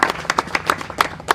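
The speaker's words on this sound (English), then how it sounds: "Round of applause for these guys." Hand claps ring out at an outdoor camp gathering on a family's private property: roughly nine sharp, separate claps from a small group in an irregular rhythm, close and clear with no talking.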